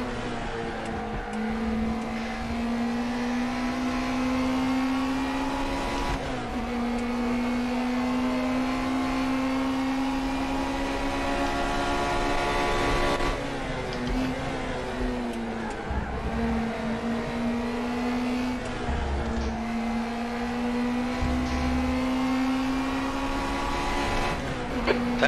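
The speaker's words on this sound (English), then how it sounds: "That engine doesn't sound right, mate." Race car engine in a racing video game, a sustained high droning whine that rises steadily through gears and drops at each shift, repeating every few seconds, loud and continuous with no voices.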